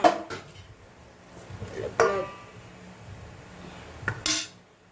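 A utensil scrapes and clinks against a bowl while marinated chicken satay is mixed, a few sharp metallic knocks spaced over several seconds with quieter stirring between.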